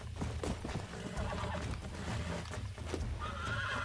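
Horse in the video game Red Dead Redemption whinnying and snorting over steady clip-clopping hooves, close and fairly busy throughout.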